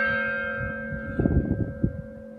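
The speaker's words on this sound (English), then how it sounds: "You guys look at the church bells." Church bells ringing from an old clock tower in Provence, France, a sustained steady tone with a few fuller strikes midway, heard at a distance with no talk over it.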